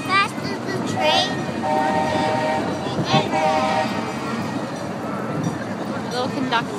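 Little Puffer miniature train ride at the San Francisco Zoo, with a rumbling rolling train and a short whistle or horn toot, heard from aboard under people talking and ambient crowd noise.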